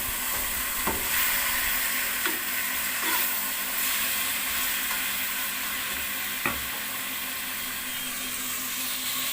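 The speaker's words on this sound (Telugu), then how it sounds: "అవన్నీ కూడా చికెన్ పట్టేట్టుగా కలిపేసుకోవాలి ముందుగా" Chicken coated with biryani ingredients being mixed in a hot vessel, a constant steady sizzle with a few soft spoon knocks spaced several seconds apart, close and even, no one speaking.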